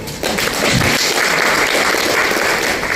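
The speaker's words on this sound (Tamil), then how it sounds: "ஒரு கைத்தட்டல்" Audience applause at a product launch event in Chennai for children's nutrition and masala powders, a dense steady clapping that swells after a brief start and continues loud and close throughout.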